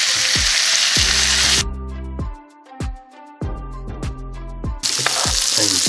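Salmon steak sizzles loudly in a hot pan as lemon juice drips into slits in the skin; the dense hiss fades to a tonal musical passage mid-way, then returns strongly at the end.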